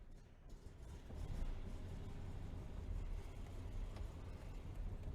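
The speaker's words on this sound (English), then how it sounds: "We're actually driving the car out of the garage" A 1966 Volkswagen Type 3 Fastback with a newly installed engine pulls out of a garage, giving a low, steady rumble that swells slightly after the first second and holds, with no voices.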